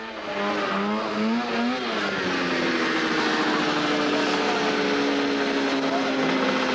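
Ski-Doo, Yamaha and Arctic Cat snowmobiles race down a grass drag strip, their high-revving two-stroke engines screaming loudly and continuously, pitches rising and falling as they accelerate away.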